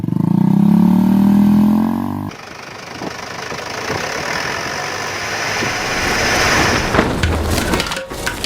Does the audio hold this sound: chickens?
no